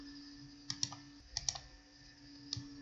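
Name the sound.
typing a promo code on a computer keyboard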